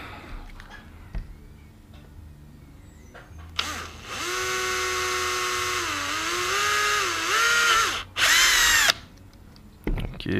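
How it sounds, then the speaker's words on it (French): A power drill whines loudly as it bores holes into a GoPro Hero 7 Black camera housing, the motor sound dipping under load and rising again in two sustained bursts before stopping, with quiet room noise before and after. "j'ai déjà préparé la perceuse, donc on va essayer de faire les trous tout de suite"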